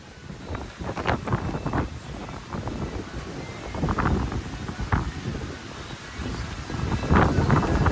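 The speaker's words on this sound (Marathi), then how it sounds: "एवढ्या वरती आलो की वादळ वारा सुटलेला आहे" Strong, gusty wind sweeps a mountain trail on the monsoon climb from Khandas toward Bhimashankar. It buffets the microphone with a loud, continuous roar that keeps surging, with nobody speaking.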